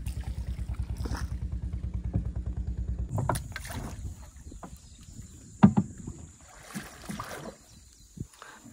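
Wooden boat being rowed on a creek: a rhythmic low thudding and creaking of strokes at first, then splashes and knocks of wood in water, with quieter ambience between.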